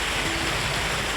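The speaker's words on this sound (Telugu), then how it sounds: "నీళ్ళు చూడండి ఎలా పోతూ ఉన్నాయో." Water rushes steadily down a forest waterfall stream, a broad even hiss and roar heard close by with no voices over it.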